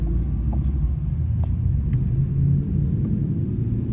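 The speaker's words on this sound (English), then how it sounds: "Everybody start revving." Cars at a car meet in Omaha rumble with steady, loud low engine noise throughout, close by, without clear separate rev peaks.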